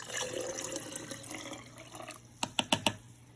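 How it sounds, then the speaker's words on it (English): Apple cider vinegar poured into a small jar already holding water, a soft close trickle that ends in a few quick clinks of glass. "next I'm going to add the vinegar."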